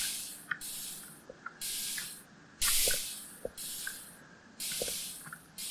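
Water pours in a Minecraft-style video game, coming as rhythmic bursts of spraying hiss broken by short gaps and scattered drip-like pops, with no voices.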